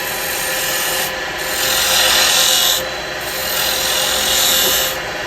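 Carbide chisel cutting a wooden bud vase spinning on a lathe, a steady close rasping scrape that swells in two longer passes of tool contact with no talk.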